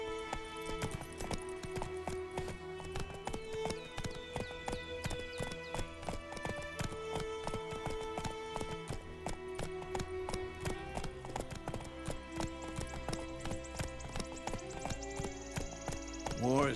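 Roach, a horse in The Witcher 3, gallops with a steady rhythmic clip-clop of hooves over a dense bed of game music, with an occasional snort or whinny.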